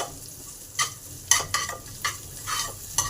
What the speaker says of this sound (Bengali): তেল গরম হলে তেলে দিলাম হিং জিরে কালো জিরে লঙ্কা আদা